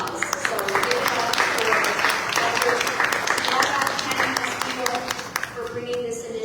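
An audience applauds at a medical center community event celebrating a new family wellness clinic, sustained dense clapping throughout with a speaking voice over it.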